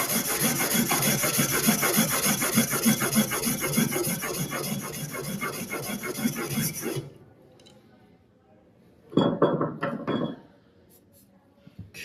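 A blade's primary bevel is pushed and pulled over a wet whetstone in steady, continuous rasping strokes, close and loud for about seven seconds, then it falls quiet except for a brief burst of scraping strokes.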